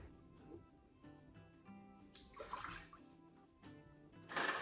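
Water is poured into a measuring cup in a home kitchen while baking, in a couple of short splashing bursts over quiet background music.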